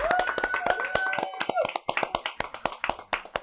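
Studio audience applauding at the close of a timed cooking challenge, a steady burst of clapping that thins into scattered separate claps near the end.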